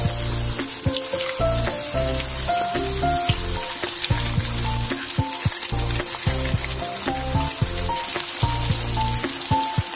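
Eggs stirred in a pan with garlic scapes, spinach and dill, a loud crackling sizzle broken by repeated scraping stir strokes at an irregular rhythm, no speech.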